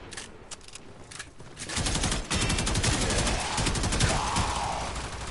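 Assault rifle gunfire in the video game Warframe, a dense rapid burst that starts after a couple of scattered shots and keeps firing steadily, mixed with game effects.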